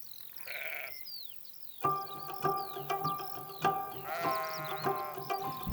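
Sheep bleat on the Isle of Skye, Scotland, first a single call, then several overlapping bleats from a flock at varying distances, loud and continuous over a quiet outdoor background.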